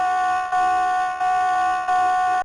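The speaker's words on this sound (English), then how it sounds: "The alarm just sounds like this now." Loud, steady electronic alarm tone from the San Francisco Zoo public safety alarm system, a sustained multi-tone blare repeating in three long pulses with brief dips between them.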